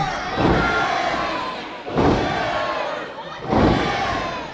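Crowd cheering and roaring at a cage wrestling match, a steady loud wash of voices with three swelling surges of shouting.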